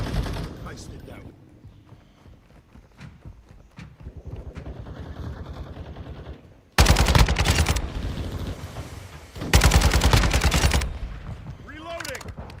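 Kastov 762 rifle gunfire in Call of Duty Modern Warfare II comes in two loud, rapid automatic bursts after a quieter stretch of movement and background game sound.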